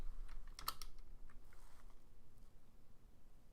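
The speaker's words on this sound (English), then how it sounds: "then you're going to type the command AXT" A command typed on a computer keyboard, a short quiet burst of key clicks near the start that fades into faint room hiss.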